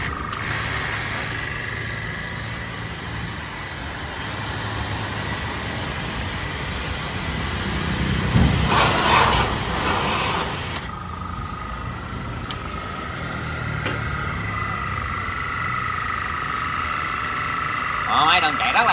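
An Italian high-pressure washer pump rated at 200 bar with an 18 mm ceramic piston runs smoothly at idle, a steady low mechanical hum with a faint whine, continuous and close.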